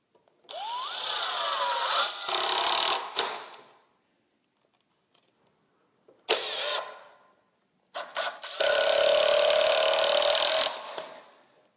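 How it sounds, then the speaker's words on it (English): An impact driver drives screws into wood stud framing in three loud bursts of whirring and hammering, the first two short and the last longer, with quiet gaps between. "The impact driver, like this is, kind of has a bit of a hammering action"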